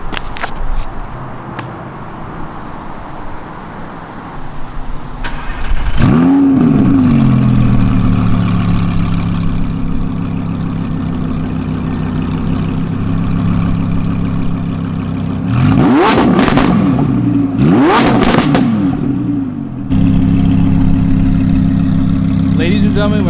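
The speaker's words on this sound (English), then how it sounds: "I'm trying to figure out a good point to do a cold start." Modded Audi R8 V10 cold start: an engine cranks and bursts into a loud, sustained rumbling idle, blipped with two sharp revs partway through, then settling back into a steady, throbbing idle.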